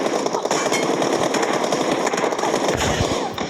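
Rapid automatic gunfire in a shooter video game, dense continuous bursts of shots that stay loud and close throughout, with no pause or talk over it.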